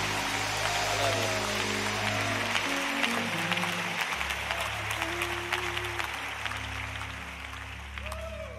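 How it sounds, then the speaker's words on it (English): Congregation clapping hands at a Tuesday evening church service as a preacher comes up, a steady broad wash of applause with sustained organ or keyboard tones underneath, gradually thinning toward the end. "why don't you clap your hands as Brother Tuttle comes to preach?"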